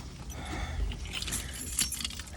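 A bunch of keys jangling and clinking as they are handled, a continuous metallic rattle with a brighter burst near the end, close up and without talk.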